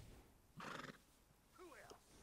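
A riding horse in Red Dead Redemption 2 neighs and whinnies twice, quiet and brief, over a low game background.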